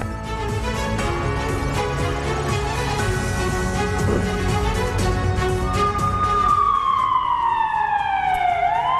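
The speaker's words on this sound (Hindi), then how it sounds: "और वॉर जोन में सायरन बज चुका है।" A loud wailing air raid siren in a war zone rises and falls over dense, noisy background, with a sweeping tone sliding downward toward the end.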